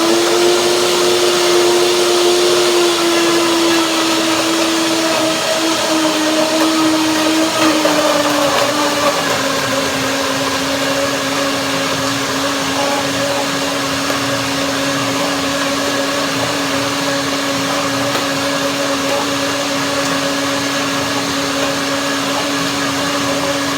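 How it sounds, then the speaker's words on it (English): A blender whirs through a cherry, banana and hazelnut smoothie, a loud steady motor whine that dips slightly in pitch as the contents thicken, running continuously for over twenty seconds. "So I will blend that now"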